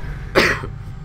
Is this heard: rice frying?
no